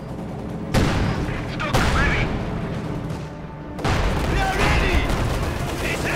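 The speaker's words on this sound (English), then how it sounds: "Stug continues to fire away" A StuG assault gun fires in the Company of Heroes 2 battle game, with several heavy booming shots landing amid continuous battlefield gunfire and rumble.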